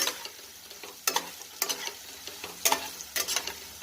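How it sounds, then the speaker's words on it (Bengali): Spices being stirred into a jackfruit curry in a pan make repeated scraping strokes about every half second over a soft sizzle of frying, close by and with no talk. "সবটা মশলাটা মিক্স করে দিলাম"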